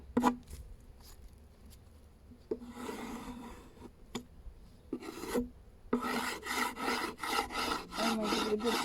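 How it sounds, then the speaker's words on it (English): Hive tool scraping propolis deposits off a beehive base board, first in scattered short scrapes and then in quicker, continuous rasping strokes that grow louder toward the end, heard close up. "we give it a good scrape across the entire board, getting up any propolis deposits."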